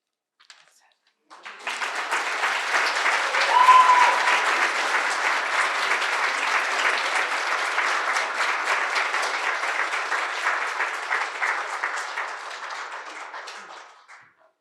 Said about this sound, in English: Another round of applause for our writers.